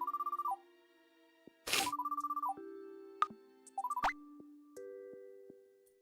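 A phone rings in the B-Project Ryusei Fantasia video game as short electronic trilling tones repeated in bursts. They mix with soft plopping blips and interface beeps, clean and close with no talking.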